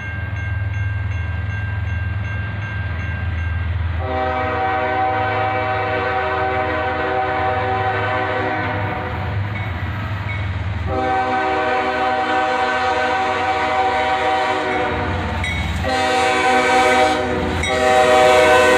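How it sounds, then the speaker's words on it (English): A CSX freight train heading southbound rolls past with its horn blaring in long, loud harmonic blasts, sounding in three separate stretches over a steady low rumble of passing railcars. "About 45 minutes later, the next train arrived,"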